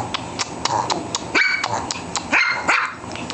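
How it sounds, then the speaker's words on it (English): A small dog barks in a rapid series of sharp yips close by, with a few louder high barks mixed in. "Why are you barking?"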